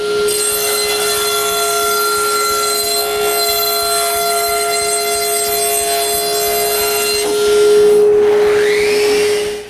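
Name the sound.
cutting wooden side panels for ski-doo trunk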